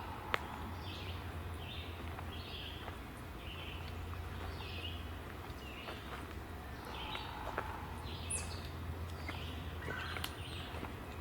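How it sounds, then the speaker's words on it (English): A red-bellied woodpecker calls in quiet woods, its short notes repeating faintly at a distance over a steady low hum, with occasional distant pounding. "Red-bellied woodpecker again."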